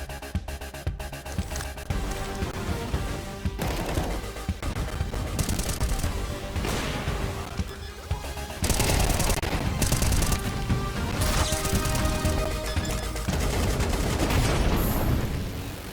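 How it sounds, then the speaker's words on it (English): Weapons fire rings out in Counter-Strike 2: loud, dense bursts of rapid gunshots and single cracks repeat throughout, mixed with heavy booming impacts and a dramatic backing soundtrack. "Counter-Strike is known for its visceral and satisfying gunplay"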